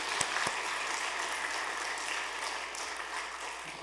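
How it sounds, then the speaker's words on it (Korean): A church congregation at a revival service applauds one another, a soft, even rattle of many hands throughout, heard from some distance, with a couple of sharper claps near the start. "잘하셨습니다라고 서로 박수하시겠습니다."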